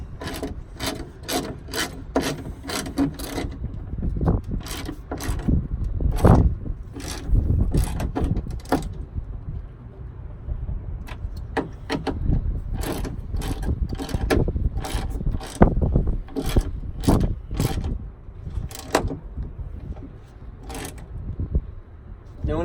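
Metal ratcheting clicks from a 10mm wrench tightening hood strut bolts on a Kawasaki Savage, a rapid series of sharp ticks in bursts with pauses, close and moderately loud over a rubbing, low background rumble.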